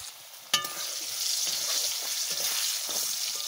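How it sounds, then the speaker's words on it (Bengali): Potatoes fry in a pan with turmeric and salt: a sharp clink, then a steady hiss of frying with occasional soft stirring scrapes, close and fairly quiet. "আলু ভাজা হয়ে গেছে"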